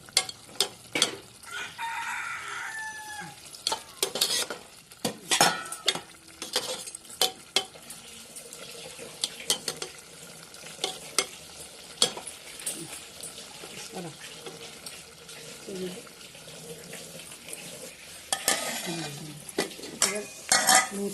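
Coconut milk goes into a banana flower curry while a spoon stirs and scrapes the pan in sharp, irregular knocks over a soft simmering sizzle, with a rooster crowing in the background.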